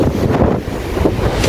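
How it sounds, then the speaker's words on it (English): Strong gusts of about 30 km/h buffet the microphone on Margate Pier, a loud continuous roar of wind with rumbling low gusts, alone without voices. "Very windy conditions, looking at 30 kilometers an hour, 31 kilometers an hour, and Piet and Shane has put lines out."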